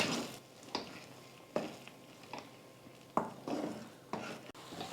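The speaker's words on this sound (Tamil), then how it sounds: "நல்லா ஒரு 5 நிமிஷம் நல்லா வதக்கிட்டோம் பாருங்கள்." Raw mango pieces sautéing in oil in a pan for mango thokku, with a soft steady sizzle under repeated scraping and clinking stirs of a spoon against the pan at irregular intervals, fairly quiet and close.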